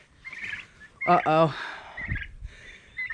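Farm turkeys gobble in short rattling bursts, with one loud close call in the middle among fainter calls and some background noise.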